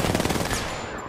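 Rapid gunfire in Apex Legends during a ranked squad firefight, a dense burst of shots that fades into quieter background noise.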